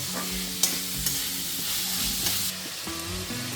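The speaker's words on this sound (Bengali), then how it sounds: "আবার কিছুক্ষণ এরকম নেড়ে চেড়ে নেবো পেঁয়াজটাকে একটু ভাজা ভাজা করে নেবো" Onions being stirred and fried for a chicken stew, a steady close sizzle with scraping stir strokes and a few sharp utensil knocks against the pan, no talking.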